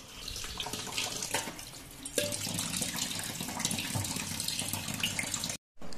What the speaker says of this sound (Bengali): এবার আমি ভালো করে বাটা মাছটা ধুয়ে নেব